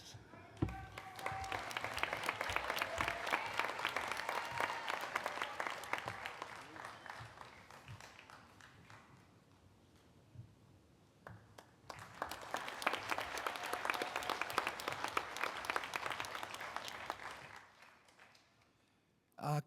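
A crowd applauds warmly at a children's university graduation ceremony in Manawatū, two sustained waves of clapping with a short lull between.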